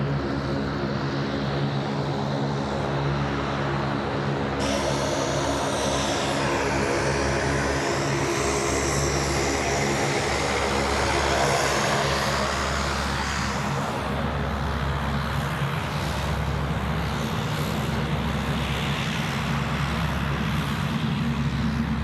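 Saab turboprop airliner taking off from Sydney Airport at night, a loud continuous propeller and engine roar that holds steady throughout, with a brief brighter tonal shift early on and a gradual change in pitch as it passes.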